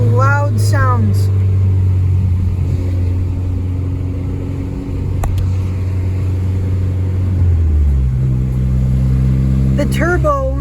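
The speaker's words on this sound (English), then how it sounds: "The turbo is actually louder than the exhaust sometimes" Loud, close Mini Cooper S engine with a short intake, droning with exhaust rumble and turbo whine at times louder than the exhaust, pitch holding steady then dropping as it shifts, with short chirps and whooshes at each end.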